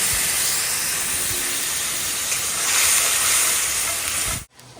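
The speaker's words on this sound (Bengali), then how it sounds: "জিরে ফোড়ন আর তেজপাতা দিয়ে পেঁয়াজ দিয়ে আদা রসুন জিরে বাটা দিয়ে দিলাম" Cumin, bay leaf, onion and ginger-garlic paste fry in hot oil with a steady, close, loud sizzling hiss that cuts off abruptly at the end.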